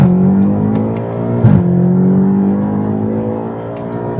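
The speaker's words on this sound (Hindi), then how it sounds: "तो चलें अब हम आपको M1 में दिखाते हैं इसकी थोड़ी सी एक्सेलरेशन।" A stock 2022 BMW F90 M5 Competition LCI sedan with a twin-turbo V8 and AWD pulls hard under acceleration, with a loud, steady engine drone that climbs in pitch, breaks briefly at a gear shift, then rises again, heard from inside the car.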